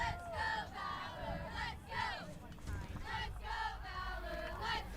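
At a varsity high school football game, the crowd chants and cheers in rhythmic surges, a steady roar of many voices that swells and dips, heard from within the stands.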